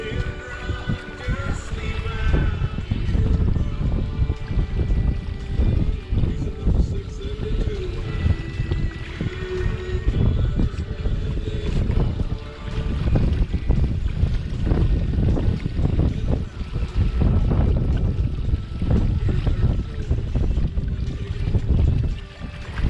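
Wind buffets a Catalina 25 sailboat under way on a lake, a steady broadband rush with constant microphone gusting and some water and boat noise beneath, loud and continuous throughout.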